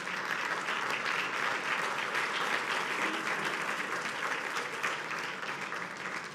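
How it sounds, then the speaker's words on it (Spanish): A church congregation applauds steadily and fairly loudly throughout, a dense, even wash of many hands with no pauses. "Démosle un aplauso grande al Señor."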